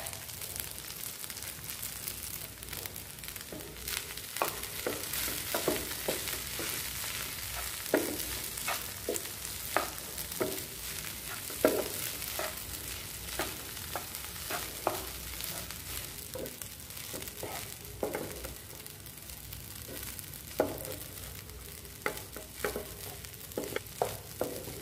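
Rice being stirred into a tomato mixture in a frying pan for tomato rice: repeated spatula scrapes and clacks at an uneven rhythm over a steady low sizzle, close and moderately loud, with no talking.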